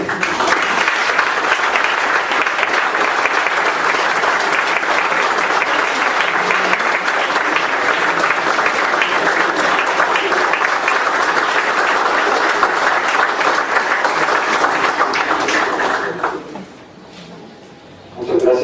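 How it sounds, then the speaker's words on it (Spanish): A conference audience gives loud, sustained applause, a thick wash of clapping that holds steady for about sixteen seconds, then drops away sharply to near silence before a brief final burst. "Por favor, un aplauso para él."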